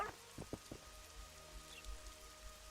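Steady rain patters and hisses across surfaces in The Witcher 2, a constant wash of drops with a few low thuds near the start.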